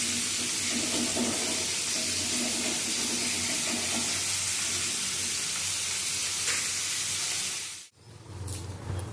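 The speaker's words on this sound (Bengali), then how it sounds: "চিংড়ি মাছগুলো ভাজা হয়ে গেছে" Prawns fry in hot oil in a wok, giving a steady, close hiss of sizzling that runs without a break for several seconds. It cuts off abruptly near the end, and quieter kitchen noise follows.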